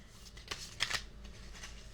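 A deck of oracle cards is shuffled close up, giving soft rapid riffling bursts and papery flutters with a couple of sharper snaps, fairly quiet and with no talk.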